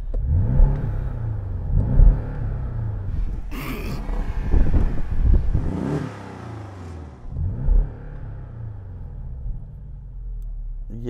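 A sports car engine from a Porsche Boxster GTS, BMW Z4 M40i or Audi TT-S revs in repeated surges and rumbles, loud and close, with wind buffeting the microphone and a voice briefly heard.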